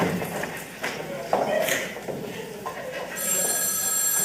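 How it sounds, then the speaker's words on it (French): A telephone rings during a student theatre festival stage play, its bright electronic trill entering near the end and holding steady over room noise and voices talking. "est-ce que c'est le téléphone?"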